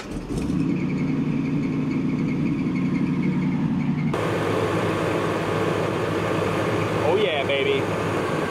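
A 1979 GMC dually truck's engine idles steadily with its idle turned down, a close, continuous low rumble that carries on throughout with a brief higher whine near the end.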